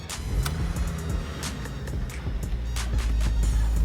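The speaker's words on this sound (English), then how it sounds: "Well, the car's idling nice." A Ford Focus ST hot hatch idles steadily with a low continuous engine rumble, close and fairly loud, with light clicks and handling noises over it and no talking.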